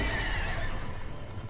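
Spectral horses whinny loudly in the video game Warframe, released by Dagath's deluxe ability, a single drawn-out neigh with faint hoof clatter beneath it.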